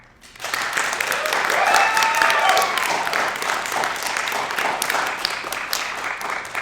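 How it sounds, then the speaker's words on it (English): Audience applause at an April Fools longform improv comedy show, a sustained crowd of clapping that swells and holds steady for several seconds, with some voices mixed into the noise. "Can we get an applause for, what was your film called again?"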